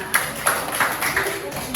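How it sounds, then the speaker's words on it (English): A class gives itself a round of applause during an English lesson, a handful of distinct, evenly spaced claps heard close by while voices talk over them. "So let's give ourselves a round of applause."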